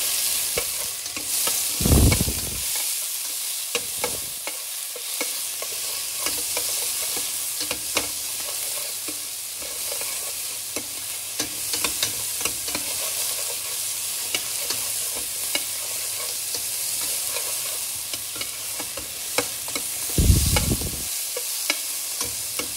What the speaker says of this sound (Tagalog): At ang ating bawang. Yan muna unahin natin igisa.